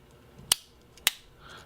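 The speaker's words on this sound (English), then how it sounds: "you got a little bit more of a legit pair of scissors for you as well" Scissors on a Victorinox I.N.O.X. Carbon limited edition pocket knife produce two sharp, close metallic clicks about half a second apart, and quiet handling noise fills the gaps between them.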